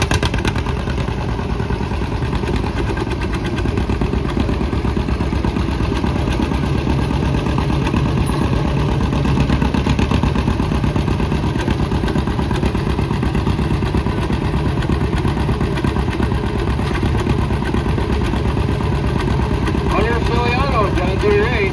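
An antique John Deere tractor engine labours during a tractor pull at an antique equipment show, a steady loud clattering mid-pitched drone that holds without pause, with an announcer's voice faintly under it.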